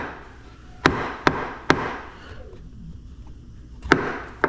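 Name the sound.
kayak throttle mount hitting plastic hull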